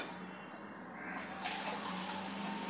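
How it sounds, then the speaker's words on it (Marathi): Hot water, about 300 ml, pours steadily into a bowl already holding hot milk, a continuous close gushing stream that swells in intensity partway through and runs to the end. "300 मिलीलीटर पाणी घालायचे आहे"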